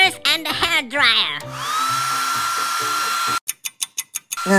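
Voices speak briefly, then a hair dryer runs with a steady, high-pitched electric whine for a couple of seconds, followed by a few quick rhythmic bursts of sound.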